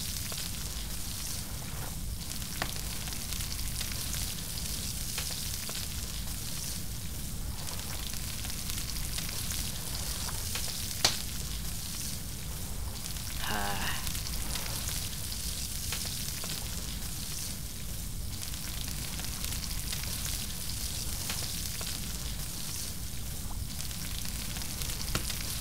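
A crab cooks over a fire in the survival game Stranded Deep, giving a steady, moderately loud sizzle and crackle that runs unbroken throughout with a few faint clicks.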